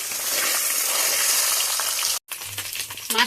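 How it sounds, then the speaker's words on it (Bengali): Small bali fish frying in hot oil give a dense, continuous sizzle, briefly cut off and then resuming with some clinks of a utensil against the pan. "অল্প অল্প করে ভেজে নেবো।"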